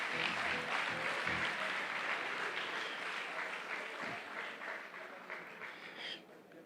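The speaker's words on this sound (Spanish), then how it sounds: "Un aplauso para la doctora Gaby." Audience applause for a doctor named Gaby, a dense steady wash of many hands clapping that carries on for several seconds before thinning slightly at the end, with no talk over it.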